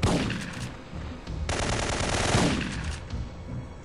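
Automatic gunfire in Syphon Filter 3, set in Kabul, Afghanistan: a sharp shot followed by a sustained rapid burst, loud and close, trailing off into rumble, with no one talking.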